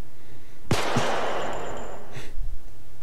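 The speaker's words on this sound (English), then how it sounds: "someone got shot" Gunshot in a Roblox Squid Game round: one sharp, loud crack followed by a long ringing decay, with a smaller burst of noise near the end.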